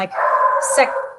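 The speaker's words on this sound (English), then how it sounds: "that's my dog" A dog barks from downstairs inside a home, giving one drawn-out, fairly loud, whining bark that lasts about a second and stands alone, clear of talk.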